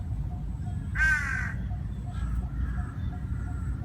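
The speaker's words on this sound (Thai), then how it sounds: "อีกาก็เยอะด้วย" A crow gives one loud, rasping caw in a forest full of scavenging crows, then a fainter, more distant call follows, all over a constant low background rumble.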